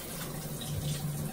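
Tap water runs in a steady, constant gush while filling and mixing bath water, close by with no talking.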